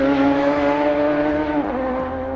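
A Radical SR3 XXR race car engine in a video game holds a high, steady revving whine with a slight pitch dip near the end, loud and continuous with no talking.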